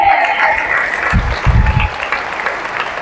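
A church congregation applauds, a dense patter of clapping hands that swells briefly, then thins out over a few seconds.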